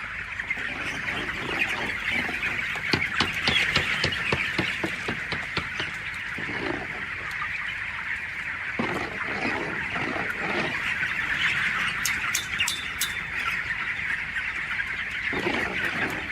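A dense chorus of clucking and squawking chickens being picked up, continuous and fairly loud, with flurries of agitated calls and occasional sharp high cries.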